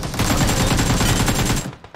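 Gunfire in the video game PUBG Mobile: a loud, close burst of rapid automatic shots firing continuously for nearly two seconds before tapering off, with no talking over it.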